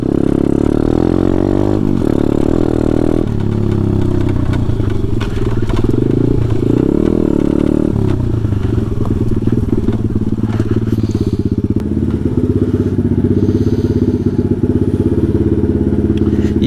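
A pit bike with worn, failing suspension rumbles loudly over a rocky trail, its engine note steady and close while clattering knocks mark the suspension bottoming out on the rocks; no one speaks.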